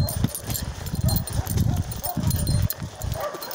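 Several dogs bark from private property at the edge of a forest, a loud, busy chorus of overlapping barks and yips that continues throughout.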